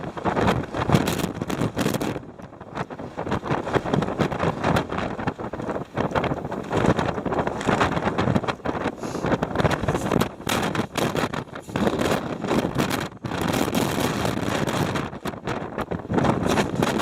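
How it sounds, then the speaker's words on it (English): Strong, cold wind blows hard outdoors near a tent and buffets the microphone with loud, rough gusts. The roar surges and drops in uneven bursts for the whole stretch. "This wind is so strong, it's this, and it's cold."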